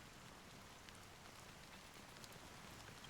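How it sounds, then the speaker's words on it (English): Steady rain pours in the game Honkai: Star Rail, a faint, even hiss of dense drops falling on surfaces with occasional brighter patters, continuous and without voices. "how long has this rain been going on for?"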